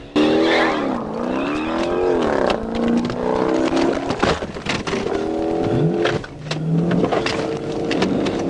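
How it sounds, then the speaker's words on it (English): A Dodge Challenger at high speed losing control on a curve and sliding off the road: loud engine whine with shifting pitch, tire squeal and scraping, close and intense, with no talk. "The vehicle raced along the roadway, entered a curve, lost control,"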